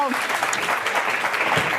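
Live studio audience applauding at a talk show taping, a steady broadband patter of many hands clapping throughout, fairly close and even in level, with no voices standing out.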